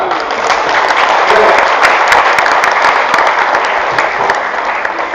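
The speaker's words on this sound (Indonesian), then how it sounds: "Mari kita tepuk tangan semuanya dulu" Sustained audience applause at an Indonesian gathering, a dense, steady wash of many hands clapping close by that holds for the whole stretch without easing.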